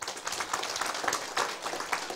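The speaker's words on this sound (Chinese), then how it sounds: "甲拍手一下" An audience claps at a political gathering in Taiwan, a steady wash of many hands lasting about two seconds at moderate, fairly distant loudness.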